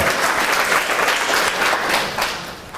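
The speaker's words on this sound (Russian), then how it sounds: "So now you can clap." A seminar audience breaks into dense, sustained applause after a talk on balanced nutrition. Many hands clap continuously at an even loudness with no speech, then ease off slightly at the end.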